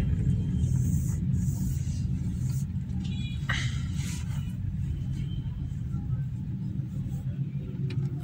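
Toyota Corolla GLi engine idling at about 650–700 RPM after tuning and an oil change, a steady low rumble that stays even throughout, with a few faint clicks and knocks nearby.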